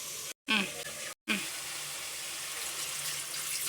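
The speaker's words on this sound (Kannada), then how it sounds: "ನಿಮ್ಗೆ ಎಷ್ಟು ಬೇಕೋ ಅಷ್ಟು ನೀರು ಹಾಕಬೇಕು" Water is poured into chicken gravy in a pan, a close, steady rushing hiss with a gurgle, briefly cut off twice near the start and then continuing evenly.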